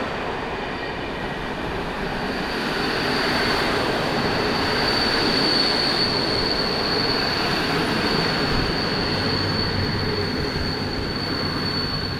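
An Intercity Mewa train pulls into Szczecin Główny station, a loud, steady rolling rumble of wagons with a long, high wheel squeal running throughout, no voices over it.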